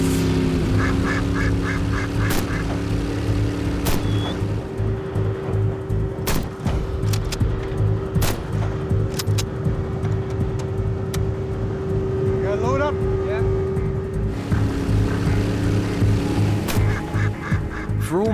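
Ducks quack on a remote Canadian lake, heard as scattered, fairly distant calls. A steady engine drone runs throughout, with sharp knocks or shots here and there.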